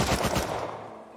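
Turret opening fire in the game Rust, a loud, rapid automatic burst of shots that fades off quickly after about half a second.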